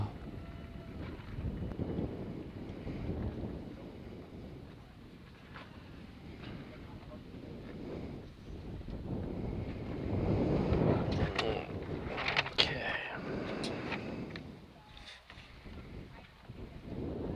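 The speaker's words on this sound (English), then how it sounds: "In fact, we got so much wind, folks, it's blowing things around on my table here." Strong wind buffeting the microphone at an outdoor harness racing track at a county fair, a low, rumbling gusty roar that swells and fades, with someone talking over it.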